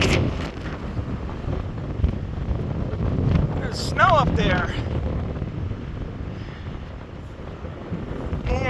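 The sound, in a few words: strong wind outdoors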